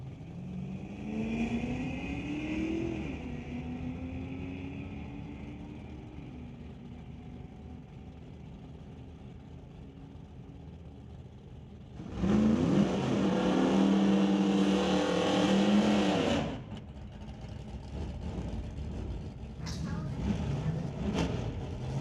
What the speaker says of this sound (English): Tyler Smith driving the 97 Chev pickup against Jessica Armstrong in the 75 Dodge.